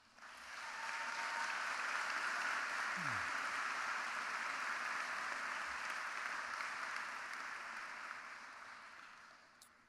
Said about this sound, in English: Please join me again in applauding these amazing graduates.